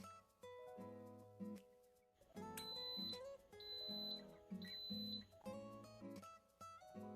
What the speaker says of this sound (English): The Instant Pot will beep after a few seconds.